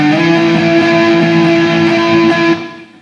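An electric guitar plays the octave part of a song's solo, sustained and loud with strummed, distorted tone, ringing steadily before fading out at the end.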